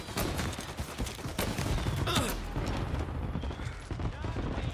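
Rapid gunfire bursts crack through a shootout in the video game Mafia Definitive Edition, loud and dense over a busy background, while a voice talks over the action.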